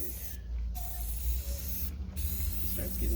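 Steady, close hiss of spray paint being applied to a camper, running almost continuously with two brief breaks between passes and no talking.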